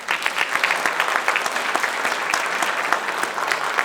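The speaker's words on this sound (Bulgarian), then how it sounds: "Още веднъж аплодисменти за всички тях." Lively applause from an audience at an awards ceremony, close and bright with distinct individual claps rippling in a brisk, even stream from start to finish.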